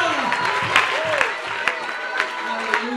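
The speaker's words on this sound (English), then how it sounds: "give God a good hand clap of praise" A church congregation at a Sunday night prayer service claps in praise, a dense crowd of hands with sharper individual claps standing out, while a voice talks or calls over the clapping.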